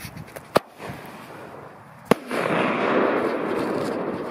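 Fireworks set off at New Year's Eve, with two sharp loud bangs followed by a sustained crackling, hissing roar that stays close and loud. No talking.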